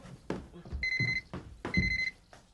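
An electronic telephone ring sounds in two short trilling bursts, with brief thumps and faint voices in between.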